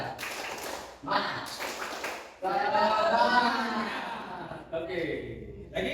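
A group performs a rhythmic 'tepuk semangat' clap during an ice-breaking session, with bursts of patterned clapping, chuckles and voices mixed in.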